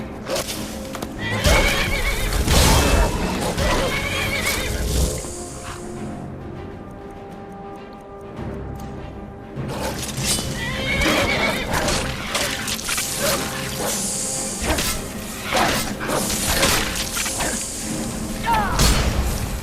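Horse in the Skyrim video game neighing loudly and whinnying with clip-clopping hooves and heavy thuds of a fight, a brief quieter lull midway before the commotion resumes.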